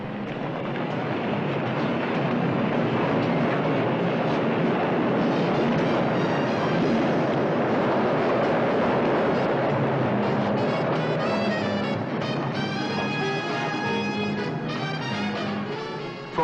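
A steady, loud rumble of a London Underground train pulling in at the platform, with a rising whine and a hiss of wind, continuing without pause.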